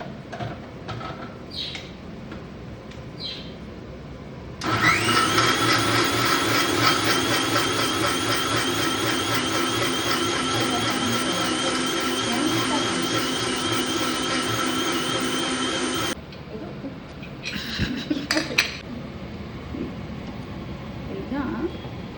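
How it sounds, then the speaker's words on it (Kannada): A kitchen mixer grinder blends masala with water for mutton sambar. It runs as a loud, steady whirring roar for about eleven seconds, with clinks and faint talk before it starts and after it stops. "ಮಿಕ್ಸಿ ಮಾಡೋಣ."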